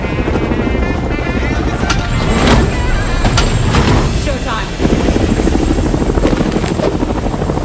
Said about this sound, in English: heard a helicopter coming in, because those aren't exactly quiet